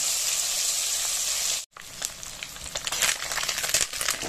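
Small mourala fish fry in a pan of hot oil, a loud steady sizzle that cuts out briefly and then returns in bursts of crackling spatter, close up and with no talking.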